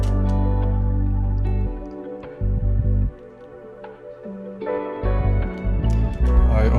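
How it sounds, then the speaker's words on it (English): A deep new bass line, played on bass guitar and following the root notes of a soulful sample, hums in long sustained low notes with pitch changes under the beat's layered musical texture; no one speaks. "we had to add a new bass line for the beat, which sounds like this."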